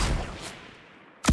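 Gunfire in the Fortnite video game: a loud burst of shots opens, fades into a rumbling tail, then another loud shot bursts in at the end.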